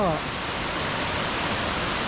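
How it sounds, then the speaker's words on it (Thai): A natural waterfall at Pyin Oo Lwin, Myanmar roars as a steady, loud broadband rush, close by and continuous from start to end. "แต่ว่าน้ำตกเนี่ยก็สวยมันเป็นน้ำตกธรรมชาติ"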